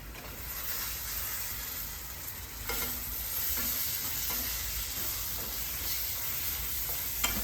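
Tomatoes tumble into a hot frying pan of fish and spices and are stirred, giving a steady close sizzle with scraping spoon strokes and a few sharper clinks, no voices.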